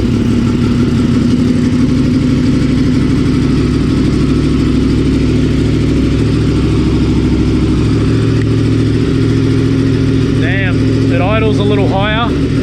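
A tuned motorcycle engine runs loud and close with a steady, throbbing idle, and near the end a few quick throttle blips rise and fall in pitch.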